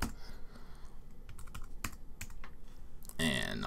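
Quick bursts of key taps on a Mac computer keyboard as a search term is typed into Finder, close and crisp, with a louder clatter of keys at the end.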